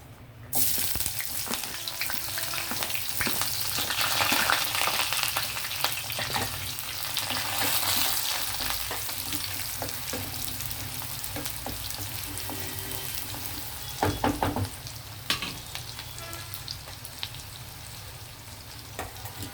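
Chopped onion frying in hot oil gives a loud, sustained sizzle that bursts in as it hits the pan, then settles into a steady crackling hiss with occasional stirring clatters, no speech.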